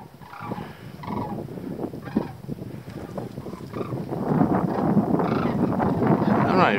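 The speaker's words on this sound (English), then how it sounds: "I'm not even sure what kind of bird that is." Unidentified bird calling near a nesting area at a cold spring campsite, a series of repeated gobbling calls over steady wind noise, while a person talks.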